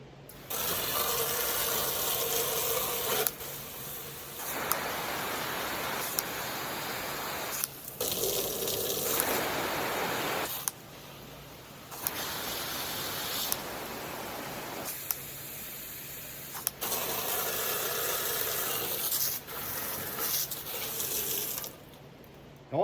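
Water sprays in repeated bursts from the thumb-controlled nozzle of a Chapin 5999 wall-mount retractable garden hose, cycling through its adjustable spray settings. The loud, broadband hiss cuts on and off at intervals.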